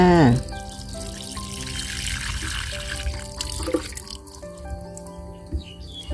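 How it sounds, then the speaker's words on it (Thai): Liquid fertilizer poured onto a potted ornamental plant drips and trickles steadily for several seconds, with a few brighter splashes standing out in the mix. "นี่ค่ะราดรถไปเลยค่ะ"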